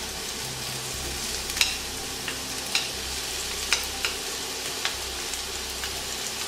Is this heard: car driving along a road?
no